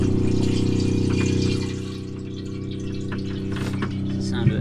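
Water pumps and gushes into a calorifier being installed aboard a sailboat, a steady, close mechanical hum with rushing flow that eases and quiets partway through.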